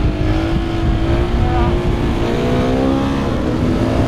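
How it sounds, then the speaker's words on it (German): A car driven fast along a country road, heard from inside the cabin as a loud, steady engine drone with rising revs and constant road rumble, no talk. "Ich habe das so vermisst, ein bisschen Landstraße zu fahren, ein bisschen zu ballern."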